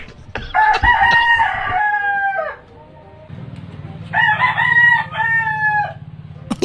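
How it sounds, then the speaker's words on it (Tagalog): Chickens on a farm crow in two long, loud rooster calls separated by a short pause, with some clucking, close to the listener; a steady low hum runs beneath the second crow. "Ingay naman ng manok."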